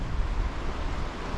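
Steady wash of Mediterranean sea surf below a cliff on the Lycian Way, Turkey, with gusty wind noise buffeting the microphone, a continuous broad roar with no voices.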